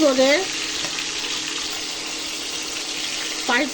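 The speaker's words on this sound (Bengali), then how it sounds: "মাছগুলা ভাজে নিব।" Pieces of magur catfish frying in a pan give a steady, fairly loud hiss and sizzle throughout, with a voice speaking briefly at the start and again near the end.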